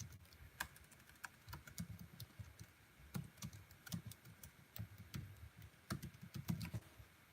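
Rapid clicks of keys on a computer keyboard, with irregular bursts of keystrokes and some stronger taps, all close and fairly quiet.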